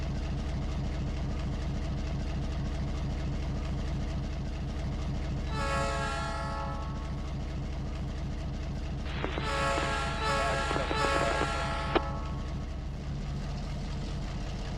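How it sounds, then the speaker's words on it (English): A train in the video game Trainz 19 rumbles past in a heavy continuous drone, with two loud horn blasts sounding over it partway through. "Train coming over there"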